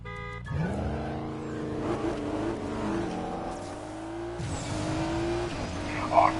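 An Audi races a supercar in the video game Need for Speed Payback, with steady engine drone and shifting revs carrying throughout, tyre noise rising near the end.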